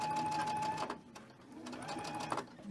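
A sewing machine stitches pieced quilt blocks for an autumn mystery quilt, running steadily, slowing and pausing briefly as it crosses a bulky seam bump, then resuming its close, continuous whir.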